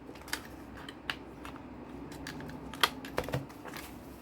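Paper envelope corners being rounded with a handheld corner punch, a few sharp close clicks and snaps spaced irregularly over a quiet room hum.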